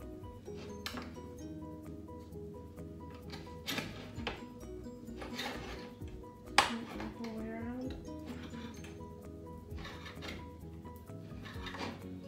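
A tin of black treacle is opened with a knife and spoon in a home kitchen, with scattered metal clinks and one sharp pop while a person talks throughout.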